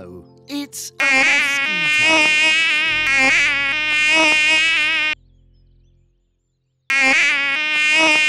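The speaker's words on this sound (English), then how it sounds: "Mosquito." A mosquito's thin, steady whine drones loud and close in two long stretches, broken by a short silent gap, with a few brief sounds just before it starts.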